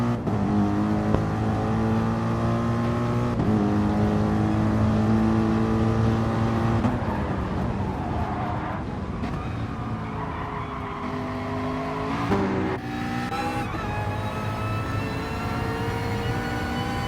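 Gran Turismo race cars, a McLaren and a Mercedes, battle closely in a GT3 championship round at Maggiore, their engines holding a loud sustained drone that rises and falls in pitch through gear changes and revs.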